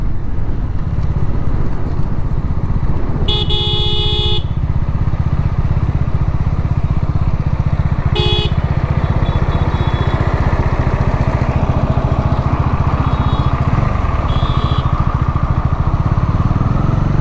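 Motorcycle riding along a road, a loud continuous engine drone with heavy wind buffeting throughout, a few brief high beeps cutting through.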